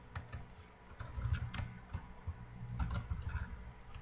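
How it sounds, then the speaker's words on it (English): Soft, irregular clicking of computer keyboard keys as names are typed, quiet and close, with short bursts of keystrokes over a low background hum. "so I'll type my name, some other people's names"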